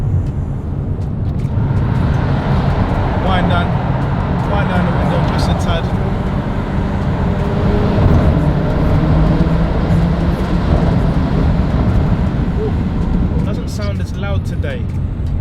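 Exhaust and road noise from a Mercedes A250 in sport mode, droning steadily as it drives through a tunnel, with someone talking briefly over it.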